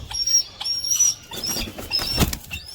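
A pet bird named Sultan flies in with a quick flurry of close wingbeats, soft fluttering thumps clustered near the end, while thin high chirps sound intermittently.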